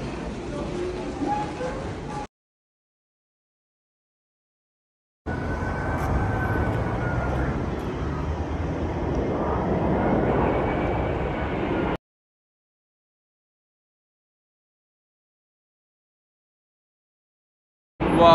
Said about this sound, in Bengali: A380 ল্যান্ডিং করতে আছে। দুবাই থেকে লন্ডন হিথ্রো এয়ারপোর্টে এসেছে